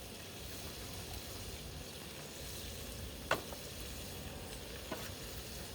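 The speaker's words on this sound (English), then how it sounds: "Sizzle, smell the sugar." Sugar sizzles in a hot frying pan with a steady, close crackle and hiss, plus a couple of brief louder spits and no talking.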